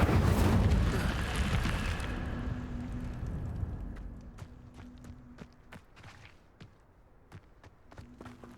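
A loud fiery burst from the Incendio fire spell in Hogwarts Legacy, a roaring low whoosh that fades over a few seconds into quieter scattered clicks and footsteps.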